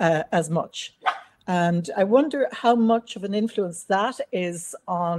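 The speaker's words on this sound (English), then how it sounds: "apologies for the dog barking" A dog barks repeatedly in the background of an online panel discussion. The short barks are mixed in with a man's steady speech.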